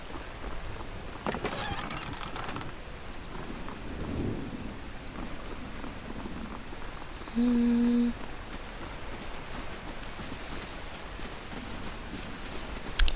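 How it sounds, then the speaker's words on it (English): Rain falling in the Pillars of Eternity video game, a steady hissing wash of rainfall with soft low rumbles, interrupted briefly by a short steady electronic tone partway through. "Does it ever stop raining in this place?"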